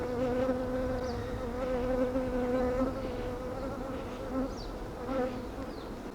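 Honeybees buzz steadily around an open hive while a beekeeper inspects frames in a wooden hive body, a dense continuous drone with a few louder passes of single bees close by.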